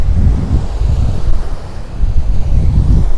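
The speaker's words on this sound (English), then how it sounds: "I hope the wind is not too bad." Heavy wind buffeting a microphone at the seaside, loud and continuous low rumbling gusts with a faint hint of surf underneath, no talking.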